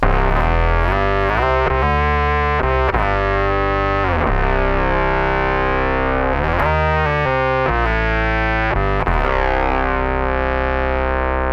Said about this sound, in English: we combined the synth string sound with this micro synth sound.